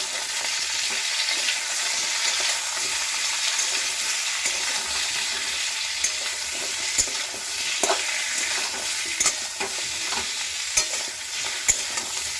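Salt and turmeric being stirred into food frying in a pan for a bharta mash, with a steady sizzle broken by occasional spatula scrapes and clicks, close and continuous with no voices.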